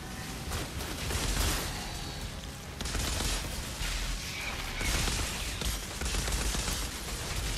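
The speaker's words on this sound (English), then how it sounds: "Too many explosions." Dense, continuous bursts of gunfire and explosions rattle through a combat fight in the shooter video game Outriders, loud and chaotic with little pause.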